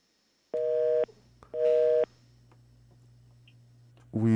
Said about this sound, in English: We seem to have lost that caller, unfortunately, but please call back.